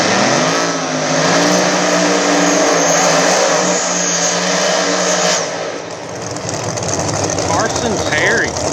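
Pro mod drag race cars including a Camaro at a PDRA drag strip, loud sustained engine roar with a rising, shifting pitch, up close and filling the scene, while an announcer's voice runs over it.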